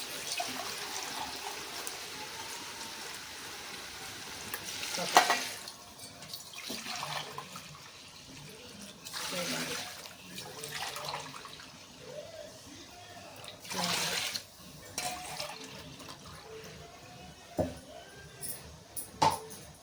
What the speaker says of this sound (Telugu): 4 లోటాలు పాలు పోసుకోవాలి. కొబ్బరి పాలు